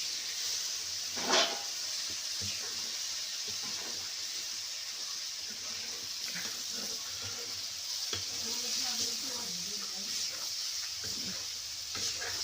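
Faint, steady sizzle and bubbling of a thick gram flour curry cooking on a hot iron griddle, with occasional stirring and a few soft clinks.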